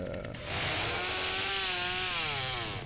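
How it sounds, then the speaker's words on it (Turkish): Chainsaw revving in The Texas Chain Saw Massacre video game, a loud sustained engine whine that rises and holds steady after a brief quieter start, with harmonic tones sweeping slightly in pitch. "He aradan da sokuyor bak testereyi."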